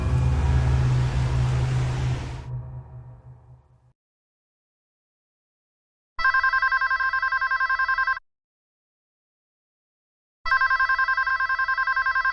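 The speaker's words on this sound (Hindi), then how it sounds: "अपना फोन क्यों नहीं उठा रही तुम?" A telephone rings unanswered in a quiet room during a Pakistani TV drama: two loud, evenly spaced bursts of electronic ringing separated by silence, after a fading wash of background music.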